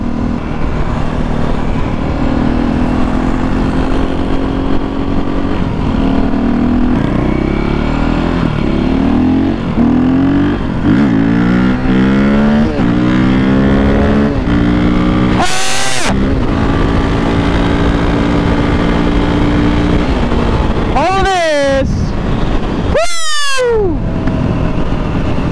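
A KTM 450 supermoto and a Grom motorcycle ride outdoors, engines droning loud and steady with repeated revs rising through gears, plus a few sharp wind-buffet bursts near the end.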